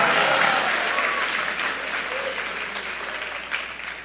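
A church congregation breaks into loud, sustained applause during a Portuguese-language sermon, the clapping dense and close at first, then easing slightly while staying steady to the end.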